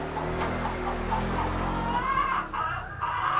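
Hens clucking in a morning coop where a mother hen tends newly hatched chicks, a steady busy run of overlapping clucks and calls, fairly close and continuous, with a rooster-like crow and other fowl sounds mixed in.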